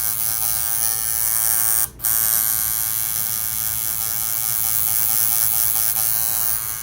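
A tattoo machine fitted with a fine needle for small portrait detail buzzes close and loud in a steady electric drone, with one brief dropout near the start and no talking.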